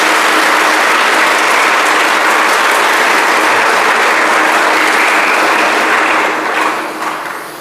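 A thunderous, sustained wave of applause from a crowd at a spiritual gathering, loud and even throughout before tapering off in the final second.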